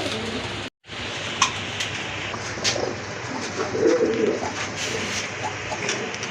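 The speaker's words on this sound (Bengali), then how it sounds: "এক জোড়া শুয়া চন্দন কবুতর, দেখেন প্রচুর ডাকে কিন্তু এই জোড়াটা" A pair of large Shua Chandan pigeons coo repeatedly, soft throaty calls rising over a steady background hiss, fairly close, with a brief dropout near the start.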